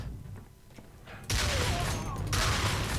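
Gunfire against robots in the shooter Alpha Prime, bursting in loudly after a quieter opening and rattling on steadily to the end, with a fresh surge of shots partway through.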